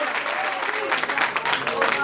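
Congregants at an evening Portuguese-language church service clap and cheer in a steady, dense patter that continues for two seconds, with voices mixed into the applause.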